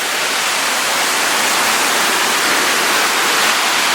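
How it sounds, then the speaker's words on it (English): Rushing water at Kpattawee Waterfall fills the air as a loud, steady broadband roar that never lets up, close to the falls with no voices over it. "This too is Kpattawee Waterfall."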